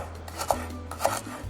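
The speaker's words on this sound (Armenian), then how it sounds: "Իմբիրը կտրատում եմ շատ մանր կուպիկներով" A knife chops ginger into small cubes on a board: two distinct, close, crisp strikes about half a second apart over a faint kitchen hum.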